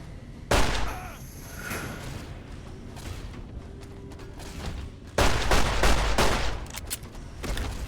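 Gunfire in Fallout: New Vegas: a loud sudden shot that trails off, quieter game sounds, then another burst of louder blasts and a later shot.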